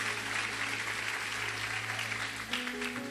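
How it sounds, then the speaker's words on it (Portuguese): A church congregation applauding for a woman on her birthday, a steady mid-level patter of many hands with a low background hum and a brief voice rising near the end. "Pode aplaudir para ela, vai."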